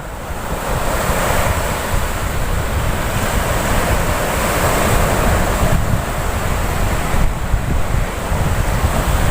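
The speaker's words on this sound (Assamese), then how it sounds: "দেখিছে ঢৌৰ অৱস্থা" Ocean surf breaks on a crowded Goa beach, a steady loud roar of waves with strong wind buffeting the microphone throughout, no talking.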